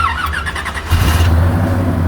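A 1967 Chevrolet El Camino with a small block 400 and gear-reduction high-torque starter cranking briefly with a whirring whine, then catching into a rough, loud idle close by.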